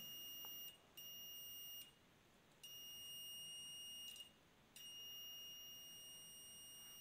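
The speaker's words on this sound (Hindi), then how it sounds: "तो यहाँ आप देख सकते हैं कि बीप आ रहा है" A multimeter on continuity testing a tubelight rod gives a faint, steady high beep that cuts off and restarts several times.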